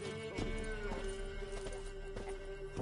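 Horse in The Witcher 3 clip-clopping its hooves in a steady walking rhythm close by, with a whinny and sustained tonal game music running underneath throughout.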